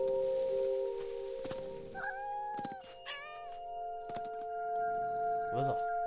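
A cat meows in What Remains of Edith Finch, giving several drawn-out meows and a caterwauling cry at close range over a steady droning musical background.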